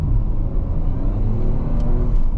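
A stock Audi RS5 pulls hard under acceleration from inside the cabin, a steady loud engine drone and low rumble with a faint whirring turbo or intake note riding on top, no voices.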